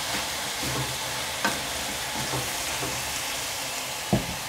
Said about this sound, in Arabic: بعد كده هنحط البصل